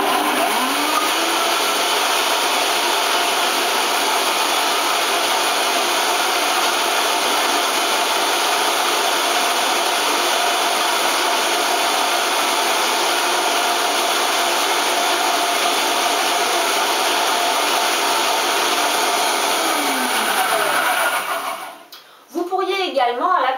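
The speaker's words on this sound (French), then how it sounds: "je vais mixer pour avoir ma confiture" A blender runs at high speed, mixing coconut nectar syrup into fruit for a raw jam. The steady, loud motor whine holds for about twenty seconds, then winds down and stops near the end.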